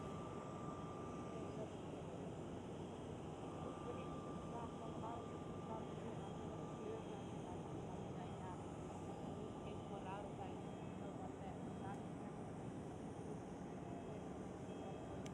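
An EasyJet Airbus A319 at Amsterdam Schiphol airport gives off a steady, distant jet roar that holds at an even level throughout, with no sharp changes.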